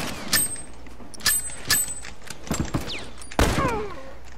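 Gunfire in The Last of Us multiplayer: several separate sharp shots with ringing tails, spaced irregularly over a few seconds, with a heavier burst near the end.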